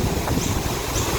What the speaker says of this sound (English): Apologies, it's really windy here now